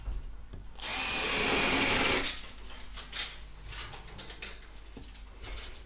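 Cordless screwdriver drilling into old plaster during crack repair work, a loud continuous whirring burst lasting about a second and a half up close, followed by quieter scraping and knocking handling sounds.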